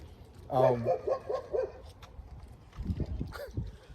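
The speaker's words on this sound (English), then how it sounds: "The dog hollering at Diva." A dog gives a rapid run of several sharp barks at a middle distance, then quieter yips and rustling follow over a low background hum.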